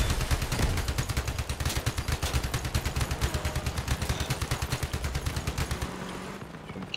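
Vehicle-mounted guns fire from a tracked build in a vehicle-building combat game, a steady rapid automatic rattle, loud and close, that keeps going for several seconds before stopping abruptly.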